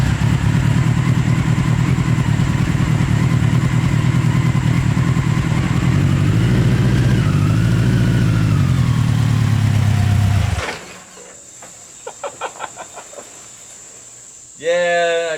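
A mini trophy truck project running in four-wheel drive high range gives a loud, steady engine drone for about ten seconds, then drops away to a quieter idle with a few light clatters and a brief final burst of revving.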